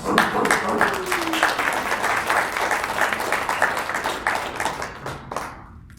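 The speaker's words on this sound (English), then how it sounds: "Give her a great round of applause." Audience applause for a woman invited onstage during a closing keynote, a dense, steady wash of many hands clapping that fills the room and thins out near the end, with voices and cheers mixed in.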